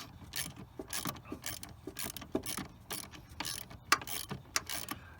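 Brake master cylinder line fittings being tightened produce a rapid, steady run of close mechanical ratchet clicks, with a few louder metallic taps along the way.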